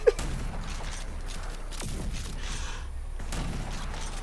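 Shotgun blasts in the video game Rage 2: a couple of sharp, separated booms stand out faintly over a quiet, hissy game background.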